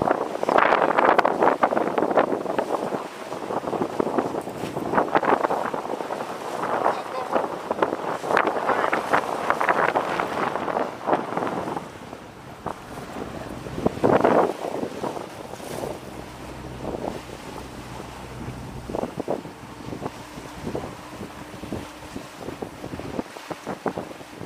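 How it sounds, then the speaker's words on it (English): Boat cruising on open water at sunset off Costa Rica's coast, with steady wind buffeting the microphone and a constant rush of water and engine noise throughout, loud and close. "Sunset cruise on the boat"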